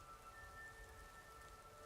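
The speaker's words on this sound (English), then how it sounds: "It's raining in Skyrim." Steady rain in the video game Skyrim, a soft continuous hiss of falling drops, faint and unbroken, with no voices.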